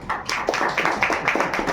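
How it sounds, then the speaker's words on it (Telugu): An audience at a church Christmas program applauds to welcome guests, steady rhythmic clapping from a small group, fairly close and sustained. "క్లాప్స్ కొట్టి మనం ఆహ్వానిస్తాం."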